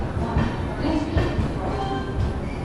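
Train rolling into New Jalpaiguri station at night, a steady low rumble with faint rhythmic clatter and occasional wheel squeal heard from inside a coach.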